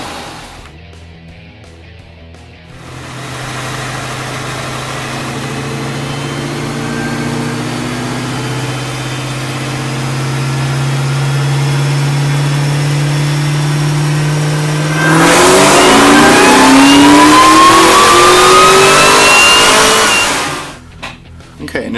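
A 2003-2004 Ford Mustang Cobra with a Kenne Bell supercharger idles on a dyno with a steady low drone, then revs hard, climbing in pitch and growing louder before cutting off abruptly.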